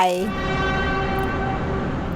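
Train standing at an Australian station on the Geelong line, about to depart: a steady, loud harmonic tone like a horn or whistle sounds after a brief start and holds for about two seconds over rumbling machinery, with no voices.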